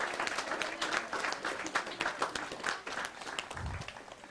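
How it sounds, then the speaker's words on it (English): Concert audience applauding a community band, a steady wash of many hands clapping at moderate distance for several seconds, with a low thump near the end. "Give them another round of applause."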